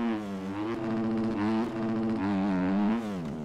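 A Yamaha 250F dirt bike engine in MX Bikes revs hard and buzzes at high RPM, its pitch rising and falling through gear changes, loud and continuous.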